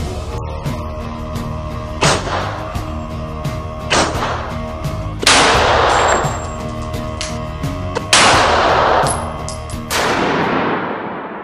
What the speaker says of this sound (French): On a fait notre série de tirs